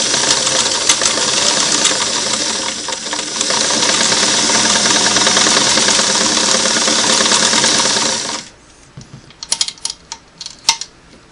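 A Singer Model 338 sewing machine stitches a single-needle straight seam at steady speed, its fast dense mechanical whir running loud and continuous for about eight seconds before stopping, then a few scattered clicks and taps.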